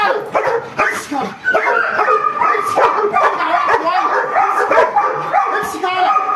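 During bite-sleeve training, a dog barks, yips and whimpers repeatedly at close range while a handler talks and calls out encouragement over it.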